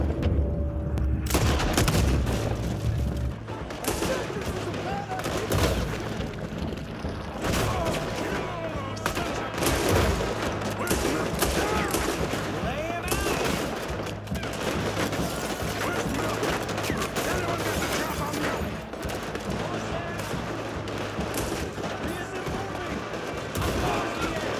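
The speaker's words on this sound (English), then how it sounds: "A shootout ensues between the gang and the Pinkertons." Sustained gunfire from a shootout between an outlaw gang and Pinkertons at a bank in the video game Red Dead Redemption 2, with dense rapid shots, heavy booms and rattling volleys throughout, mixed with voices.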